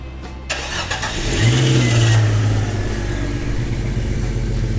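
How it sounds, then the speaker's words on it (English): A car engine cranks and catches after an oil change, then settles into a steady, fairly loud idle that keeps running alone. "Go back, start it up, let it run for a couple minutes."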